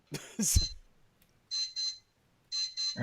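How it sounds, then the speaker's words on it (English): Electronic beeping in short paired bursts, a pattern repeating after a pause, with a brief muffled sound at the start. "who's beeping? Somebody's beeping."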